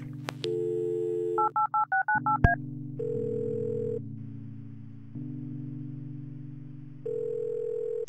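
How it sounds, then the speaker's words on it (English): Telephone dialing in the video game Kathy Rain: a quick run of electronic keypad tones beeps out a number over a steady dial tone, followed by plain synthetic hum and ringing tones, loud and close with no voices. "I wonder if I can call Eileen."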